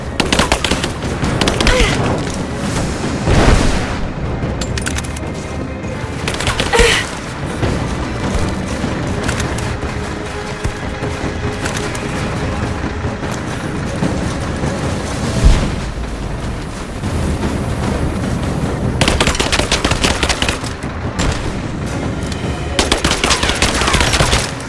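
Sustained, loud gunfire in Rise of the Tomb Raider: rapid automatic bursts and booms overlap almost continuously at close range, with a few short lulls.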